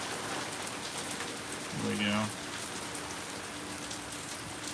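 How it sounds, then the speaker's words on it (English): Rain falls during a thunderstorm as a steady wash of drops, while a voice briefly speaks over it midway. "I wish y'all could see the rain."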